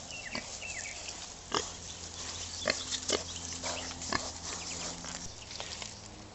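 Pigs grunt in a muddy farm pen, with a scatter of short, soft snorts and grunts over a steady low hum.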